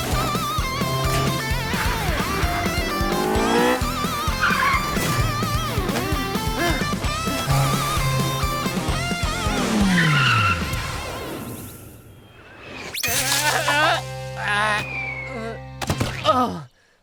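A cartoon car races along fast and skids, its squealing slide and engine rush buried in a busy, loud musical score, with a sharp whooshing swerve near the end.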